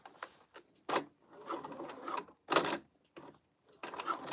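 A sewing machine stitching a crossbody bag runs in short, uneven bursts of whirring and clattering, stopping and restarting several times with silent pauses between, heard up close.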